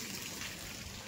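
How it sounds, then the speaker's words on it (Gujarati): Water falling steadily during a heavy rain shower, a faint, even wash of splashing with no breaks. "એ રીતે અહીંયા પાણી પડે છે જો"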